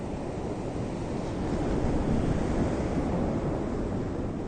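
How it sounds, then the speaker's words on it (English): Ocean surf rolling in toward a beach, a steady broadband wash of waves with some wind noise on the microphone, continuous and fairly close throughout, no voices. "The ocean is coming towards me."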